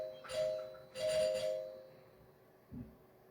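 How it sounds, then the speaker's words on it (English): An indoor doorbell chimes twice in a clear ding-dong pattern, each tone ringing out briefly, then a soft thump follows in an otherwise quiet room. "Someone's ringing my doorbell."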